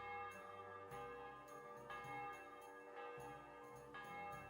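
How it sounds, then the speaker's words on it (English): Church bells in Kingdom Come Deliverance 2 toll in repeated, overlapping strikes with a long ringing decay, steady and resonant, faint in level with no talk over them. "I'll wait for the church bells to stop."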